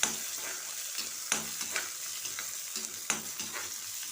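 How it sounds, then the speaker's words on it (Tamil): Small onions, shallots, sautéing in hot oil for a fish curry, a constant bright sizzle broken by quick scraping strokes of a spoon at a steady stirring rhythm, close and clear with no voices. "போட்டு நல்லா வதக்கிக்கணும்"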